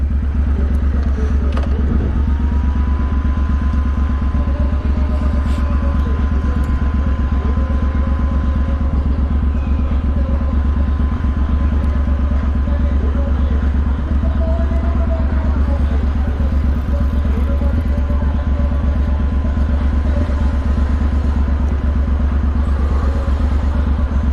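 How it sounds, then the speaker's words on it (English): Custom 2020 Triumph Bonneville T120, modified to sound old, ridden through London streets at night, with a steady low engine drone running throughout, some clatter and passing traffic around it. "I'm on the Triumph Bonneville T120. It's a 2020 version, but it's very, very custom, and I've made it look and sound old."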